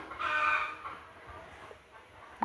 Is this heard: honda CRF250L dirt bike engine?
no